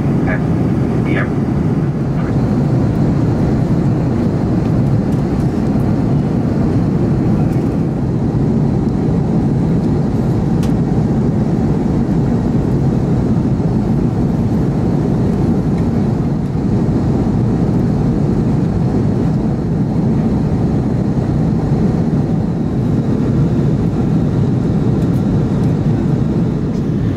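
Steady, loud cabin roar of a Garuda Indonesia Airbus A330-300 descending toward Juanda International Airport, Surabaya, holding a constant broadband rush throughout with no pauses.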